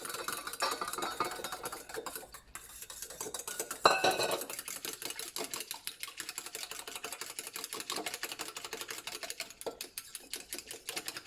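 Almond cream is beaten in a bowl, giving a fast, continuous clatter of a whisk against the sides. A brief louder knock comes partway through, and the steady beating continues at an even pace.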